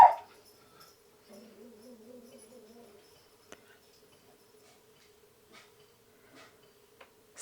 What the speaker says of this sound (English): Sorry about the doggy.